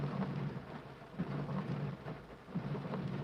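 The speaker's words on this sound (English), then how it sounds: "You can hear the rain now as well, can't you?" Rain falling during a damp drive on an English road, a faint, steady patter with soft low rumbles swelling and fading underneath.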